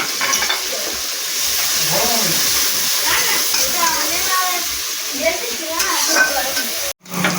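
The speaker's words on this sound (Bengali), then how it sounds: "তেলের মধ্যে পেঁয়াজটা দিয়ে দিলাম, দিয়ে ভালো করে লাল লাল করে ভেজে নেবো সুন্দর করে।" Chopped onions fry in oil with a little salt for a banana flower and fish-head dish, a steady close sizzle with stirring scrapes, a voice talking over it and a brief dropout near the end.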